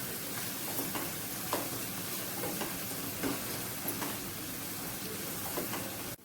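Ground spice paste sautés in oil for a prawn masala, producing a constant close sizzle broken by soft spoon scrapes and stirring taps at irregular intervals, no voices, cutting off abruptly at the end.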